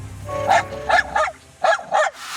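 A dog gives five short, sharp barks, each one near and loud, in an uneven rhythm with brief gaps between them. No voices are heard.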